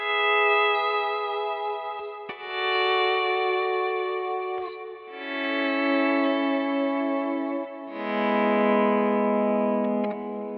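Slide guitar played through a Kemper Profiler with long reverb and a touch of high cut, sustained gliding notes with a bright, slightly distorted tone ringing out in several long phrases, alone and up close.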